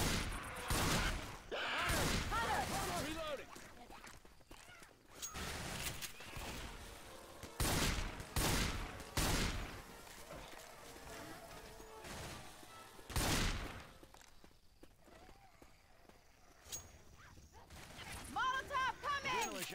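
Video game gunfire rings out in repeated bursts and single shots across the stretch, some loud and close, others fainter, with players talking throughout.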